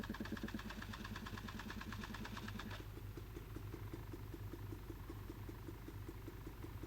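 An engine cranking on a cold January day in slush, with a rapid pulsing chug for about three seconds that then drops to a duller steady rumble without catching cleanly.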